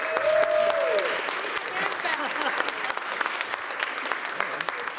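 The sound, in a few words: applause for the Radical Welcome Task Force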